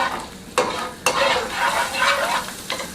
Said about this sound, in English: butter's still popping